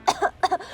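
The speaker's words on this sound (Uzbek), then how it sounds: "Yo'taldim oyijon." Two quick, close coughs in a row, sharp and dry, with no talking around them.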